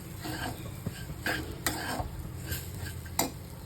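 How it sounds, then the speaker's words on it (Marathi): Upma being stirred in a pan with a spoon: soft scraping and several sharper clinks of utensil against metal, quiet and close, over a faint background hiss. "चवीप्रमाणे मीठ घालायचं परत दोन मिनटं मिक्स करून घ्यायचं"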